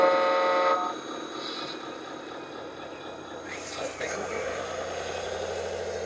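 Toy-like horn blasts from an RC construction truck's sound system in a steady tone at the start, then a rumbling motor drones on with mechanical noise.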